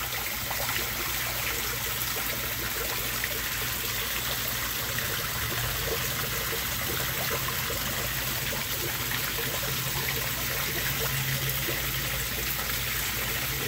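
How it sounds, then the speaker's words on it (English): Steady, unbroken rush of a waterfall in a koi pond, even and full, with no voices over it. "The waterfall."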